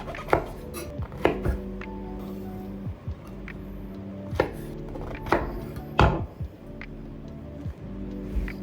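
A knife chops on a cutting board, trimming the end parts off shimeji mushrooms, with sharp irregular taps spread across the clip over a steady low kitchen hum.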